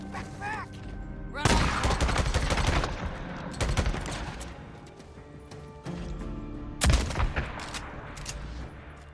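Gunfire in the PS4 action game Days Gone: loud, dense bursts of rapid shots in several clusters, with quieter gaps between volleys.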